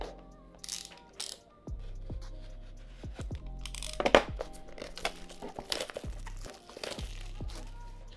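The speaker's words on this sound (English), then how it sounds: "But before that, let's unbox it to see what we get out of this." Packaging of a Tyfoto polarizing filter crinkling and tearing during unboxing, with close, intermittent rustles, clicks and rattles separated by short pauses.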